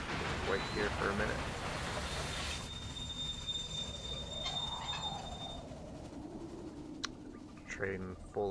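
A goods train rolls along the rails in Railway Empire, with a steady rumble, squealing wheels and a swelling pass-by whoosh, plus a sharp click near the end and speech in the background.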